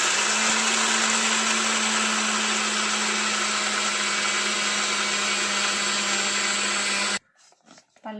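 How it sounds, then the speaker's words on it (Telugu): A kitchen mixer grinder runs at full speed grinding peanuts into powder, a loud, steady motor whir lasting about seven seconds before it cuts off abruptly, followed by a few faint knocks. "పల్లీలు పట్టిన మిక్సీకి పల్లీలు తీస్తున్నాయి"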